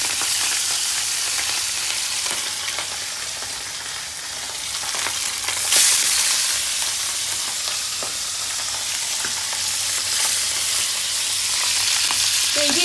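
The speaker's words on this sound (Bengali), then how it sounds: "এখানে আমি পাবদা মাছ ভাজবো বলে তেলটা গরম হয়ে গেছে অলরেডি" Pabda fish frying in hot oil, a steady loud sizzle and crackle throughout with occasional stirring sounds and a brief louder burst midway; no one speaks.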